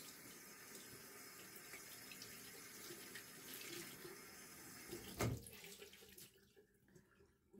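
Tap water runs steadily into a sink while a washcloth is rinsed under it, a continuous close splashing that cuts off abruptly near the end, leaving a quiet room.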